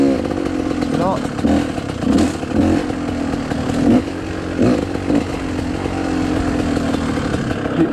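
A GasGas 250 dirt bike engine drones close and steady, with a few sharp rev bursts breaking through, while someone talks over it.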